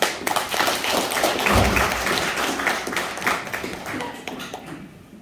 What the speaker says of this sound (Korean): 여러분 박수를 쳐서 많이 격려해 주시기 바랍니다